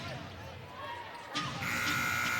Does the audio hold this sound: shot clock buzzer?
yes